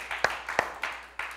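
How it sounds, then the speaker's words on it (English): A few sharp hand claps land in an uneven rhythm during a church service, close and fairly quiet, with no sustained applause around them. "Give the Lord a hand clap."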